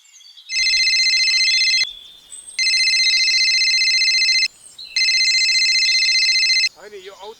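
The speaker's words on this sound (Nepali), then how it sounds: "होइन यो औतारीले किन फोन गर्यो?" A mobile phone ringtone rings loudly in three long bursts separated by short pauses, a bright repeating electronic melody with no talk over it.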